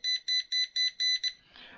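A pinpointer metal detector gives six short, evenly spaced electronic beeps, clear and fairly close, then stops into faint background noise.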